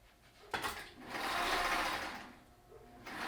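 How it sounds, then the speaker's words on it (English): A sewing machine stitches fabric mask pieces along a 6-inch side, one short, quiet, close whirring run that rises and fades, preceded by a small click, with no talking. "We're going to sew on the other side, the other 6-inch side."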